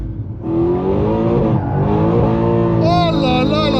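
A Mercedes C63 AMG slides sideways in a drift on a race circuit, its engine holding a loud, steady roar before a higher-pitched whine or squeal rises near the end.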